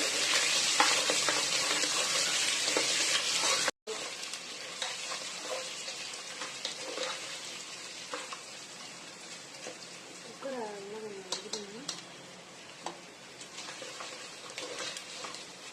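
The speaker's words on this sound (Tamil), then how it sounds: "எல்லாம் சேர்த்து நல்லா நம்ம வதக்கி விட்டுடலாம்." Chicken majboos ingredients, including whole ginger and garlic, are sautéed in a pan. A loud sizzle stops briefly, then continues more quietly with stirring clicks and scrapes, and a voice murmurs near the end.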